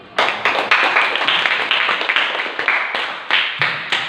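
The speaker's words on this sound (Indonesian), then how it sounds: "Ya, silakan berikan tepuk tangan dulu." A classroom of students clapping their hands, a dense burst of sharp claps sustained for a few seconds with separate loud claps near the end, fairly close and loud.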